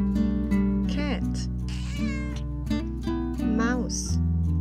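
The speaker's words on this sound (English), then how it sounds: "Cat." A cat meowing in a farm animal sound sequence, with a few drawn-out, pitch-bending meows over a steady musical background, loud and close, with a voice naming the animal nearby.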